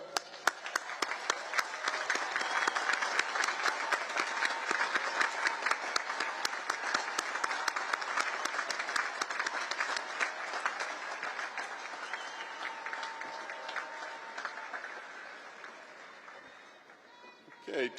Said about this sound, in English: face your families, and give them a round of applause.